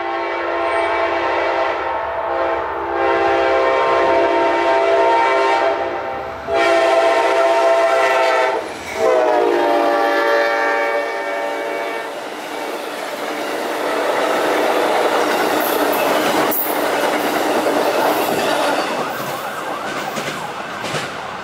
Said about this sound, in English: that was Amtrak 95